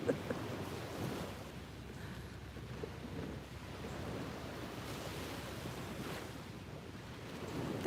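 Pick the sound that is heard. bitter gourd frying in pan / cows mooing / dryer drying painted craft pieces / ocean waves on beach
ocean waves on beach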